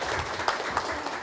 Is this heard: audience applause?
yes